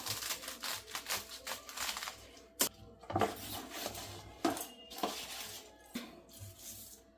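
Knife chopping spinach on a board in a home kitchen, a steady run of close, crisp cuts and taps with short pauses and a few sharper knocks.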